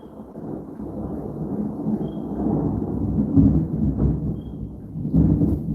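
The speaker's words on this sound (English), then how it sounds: "Y'all gonna hear the thunder in a few." Rolling thunder in Atlanta, Georgia, a low continuous rumble that swells and fades for several seconds, loudest near the middle and again at the end, with no voices over it.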